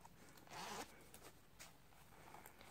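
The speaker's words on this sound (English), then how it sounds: "And then we've got the zip here." A zip on a Teenage Mutant Ninja Turtles Casey Jones front flap purse is pulled open in one quick, close rasping stroke, followed by faint handling rustles.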